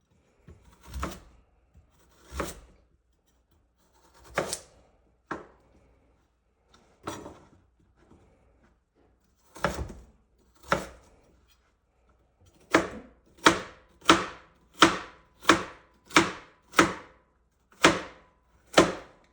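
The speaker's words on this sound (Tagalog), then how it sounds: "Gagawin lang natin, itadice lang natin itong mga carrots." Carrots being diced with a knife on a cutting board: sparse single thunks at first, then a fast, even run of sharp chops, close and clear, with no talking.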